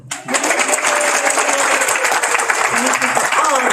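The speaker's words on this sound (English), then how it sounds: "And let's give a big round of applause for the Public Health TB team." An audience at a World TB Day proclamation signing breaks into applause for a public health team, a dense burst of clapping that starts abruptly and holds steady and fairly loud for several seconds.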